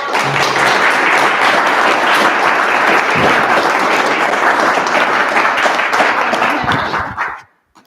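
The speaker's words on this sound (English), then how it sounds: "How about a round of applause?" An audience claps loudly after a local history talk about Rockingham County, a continuous burst of applause that stops abruptly at the end.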